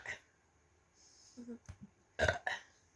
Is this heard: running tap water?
no